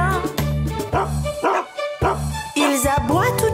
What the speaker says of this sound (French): Ils aboient toute la journée dans la drôle de ferme de Papy Henri